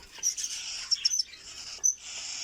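Cockatiel chicks on a bird farm at night give thin, high chirps in short bursts, several quick peeps clustered together over a soft steady hiss, close and fairly loud.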